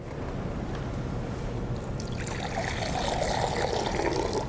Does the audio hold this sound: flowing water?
yes